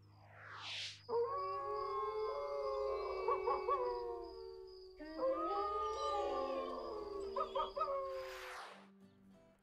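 A wolf howls in two long, wavering, rising and falling phrases, loud and clear against a quiet background, with a faint bird call near the start.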